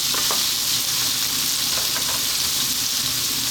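Hard vegetables such as green beans and cauliflower frying in a pot for a lentil vegetable stew, giving a loud, continuous sizzle and crackle up close with no talking.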